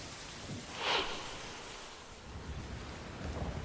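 Heavy rain pouring steadily in Solapur, a dense continuous hiss with a faint low rumble like distant thunder, fairly quiet overall.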